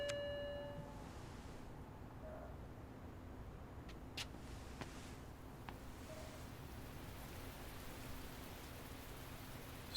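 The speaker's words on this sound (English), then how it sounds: "Starting to rain now." Steady, quiet rain hiss from Lost Judgment fills a ten-second stretch evenly, with a faint low hum and a few soft clicks and tones in the background.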